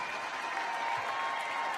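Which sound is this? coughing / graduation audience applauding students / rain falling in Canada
graduation audience applauding students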